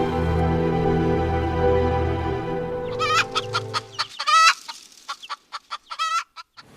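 Chickens clucking at morning feeding time, with a steady low hum for the first few seconds, then a rooster's crow and a run of sharp, close clucks and squawks.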